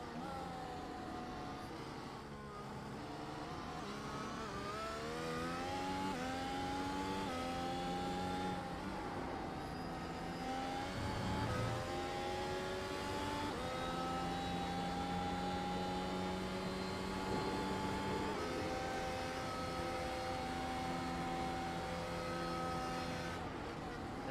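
A race car laps Circuit Park Zandvoort in the Netherlands in a racing video game, its engine whining through rising and falling gear shifts across flowing corners, loud and continuous, with a few quieter dips under braking.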